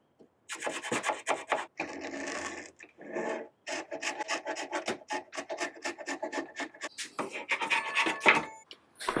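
Repeated rasping scrapes of a hand tool stripping finish off a wooden chair, in quick uneven strokes with brief pauses, close and fairly loud, no talking.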